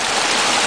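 Creek water rushing steadily at close range, a dense broadband wash of flowing water filling the short moment with no voices.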